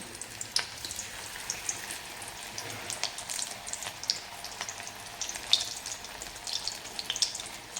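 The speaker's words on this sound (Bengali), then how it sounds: "এই যে আমি এবার বড়াগুলো" Spiced bora fritters, mixed with ginger paste, cumin, salt and turmeric, fry in hot oil with a steady close crackle dotted by sharp scattered pops, and no one speaks.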